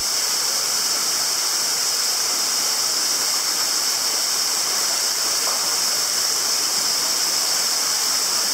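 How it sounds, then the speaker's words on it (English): A waterfall in Hidden Jewel Gorge, Australia, rushes with a steady, even roar that fills the whole stretch without pause. "Number two waterfall."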